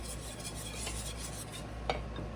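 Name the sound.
whisking cheese into a sauce until melted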